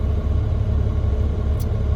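A truck engine running during an applied air brake leak test with spring brakes set and the transmission in neutral, a steady low rumbling idle close by and loud, without talk.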